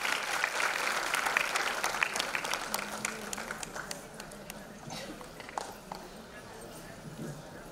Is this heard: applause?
yes